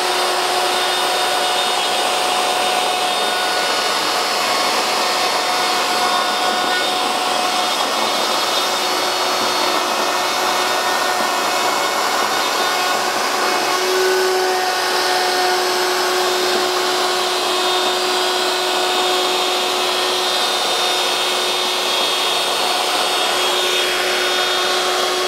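A handheld router cuts a dovetail joint in bookcase panel boards, producing a loud, steady high-pitched whine that runs without a break throughout, with the cutting noise mixed into the motor tone.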